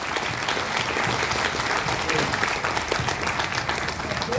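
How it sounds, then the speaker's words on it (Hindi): A large crowd at a DXN event claps loudly and continuously for contest winners, the dense applause holding steady throughout with a murmur of voices mixed in. "जोरदार तालियां आप सबके लिए"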